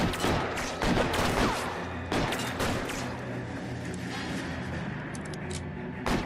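Gunfire in the video game L.A. Noire: rapid bursts of shots and fusillade crackle, dense and loud, with repeated sharp reports across the whole stretch and short pauses between volleys.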